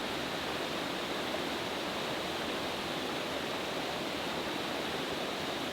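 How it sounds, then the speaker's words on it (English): Steady, broad roar of the rushing Charles River in Waltham, constant and loud throughout with no breaks or voices. "Can you hear the power behind the river?"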